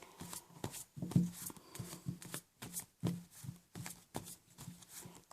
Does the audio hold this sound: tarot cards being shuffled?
yes